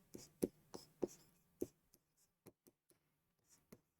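A pen writes math solutions by hand on paper, close up and quiet. Irregular scratchy strokes and taps come in short bursts, heavier at the start and then sparser.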